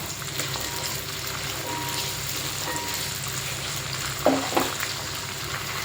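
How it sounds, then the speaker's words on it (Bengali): Kidney beans (rajma) lightly frying in a pan for rajma pulao give a steady, close sizzle throughout, with a couple of brief scraping stir sounds near the end. "এখন আমি এর ভিতরে রাজমাগুলো দিয়ে দিচ্ছি হালকা একটু ভেজে নিতে হবে"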